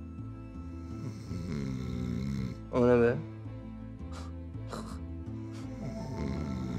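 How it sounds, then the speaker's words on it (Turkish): A person snoring while asleep in a bedroom at night, a slow, nasal rasping snore repeating under a quiet background, with one louder snort partway through and voices talking briefly. "Sabaha kadar böyle horlamayacak değil mi"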